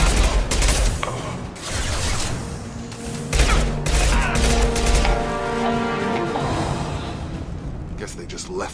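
Gunfire from Blue Suns and Orchard fighters in the video game Mass Effect 2 crackles in dense bursts and loud volleys, mixed with crashes and whooshes, with game voices heard in between.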